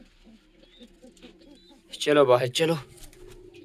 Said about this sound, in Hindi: वाइट वाली कबूतरी को भी उठाता हूँ इधर से